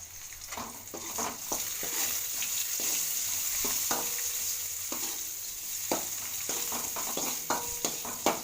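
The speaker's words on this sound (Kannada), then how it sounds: "ಮೊದಲೇ ಸ್ವಲ್ಪ ಶಾಲು ಫ್ರೈ ಮಾಡ್ಕೊತಾ ಇದ್ದೀನಿ." Brinjal slices coated with salt and turmeric shallow-frying in oil, a continuous close crackling sizzle broken by repeated light taps and scrapes of a utensil against the pan.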